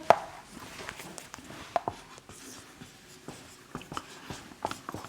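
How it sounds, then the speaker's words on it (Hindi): Scratchy strokes of writing on a board during a physics lecture on mirrors, close but quiet, in short irregular bursts with brief taps between them. "मैं लिख देता हूं एक बार।"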